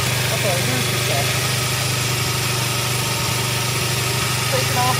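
A small engine runs steadily with the choke on, a loud, even idle close by, while a voice speaks over it.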